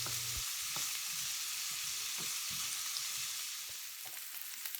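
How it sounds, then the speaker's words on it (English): Italian sausage meat browning in a pan over moderate heat, kept in large chunks: a steady, close sizzle and frying hiss with occasional soft scraping stir sounds, no voices. "Now we want to not only brown the sausage meat, but we also want to cook it through and through while maintaining the large chunks."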